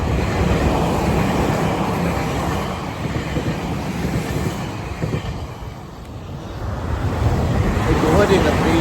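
Strong wind roars over the microphone in a steady, rushing blast that swells and eases slightly throughout.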